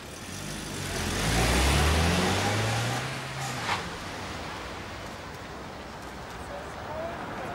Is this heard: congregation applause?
no